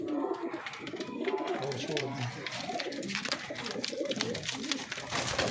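A flock of kept breed pigeons coos in soft, overlapping murmurs close by in a small loft, with voices talking intermittently over the birds.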